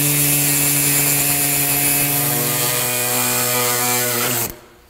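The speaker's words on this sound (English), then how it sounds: "I'm using the body saw because, well, if I use a cutoff wheel, transmission fluid is flammable." An air body saw cuts open a Honda transmission filter with a loud, close, buzzing mechanical whine that holds steady for about four and a half seconds, then stops abruptly.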